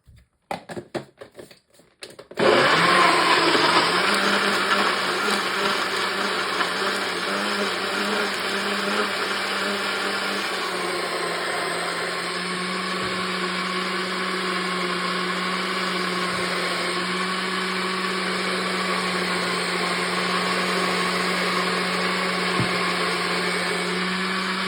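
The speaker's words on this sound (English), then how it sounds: "we're gonna blend it up and make a little bit of a noise" A blender starts after a brief clatter and whirs continuously at high speed, a loud steady motor hum with slight shifts in pitch.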